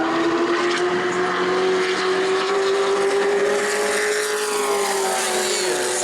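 A Sportsman race car on a qualifying lap at New Smyrna, its engine a loud, sustained roar close by that holds steady and then shifts slightly in pitch as it passes, with no talk over it.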